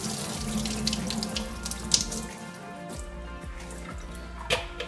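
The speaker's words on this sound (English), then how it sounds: "I just want to rinse my lettuce." Lettuce is rinsed under a running kitchen sink tap, with a continuous close stream of water and uneven splashes and drips as the leaves are moved. No one speaks.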